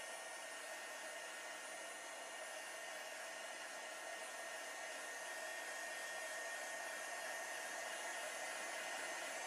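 Heat tool blowing steadily on Pentart Fineline Crackle medium, a constant airy roar with a hum that holds an even level throughout, close by and with no talking.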